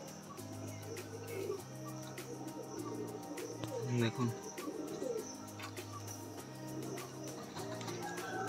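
High Standing breeding pigeons with eggs and chicks coo in low, repeated bursts in a loft, while someone talks over them.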